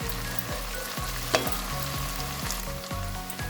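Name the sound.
stirring frying onions in a pan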